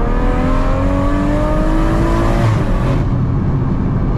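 A four-wheel-drive-swapped BMW M140i turbo engine running on pump fuel revs hard and loud, its rising whine and roaring exhaust sustained for several seconds before the pitch drops and the engine settles back.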